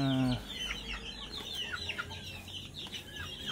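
Young gamefowl chickens, one and two months old, clucking and chirping close by in a pen, a soft, busy chatter of short calls after a brief low opening hum.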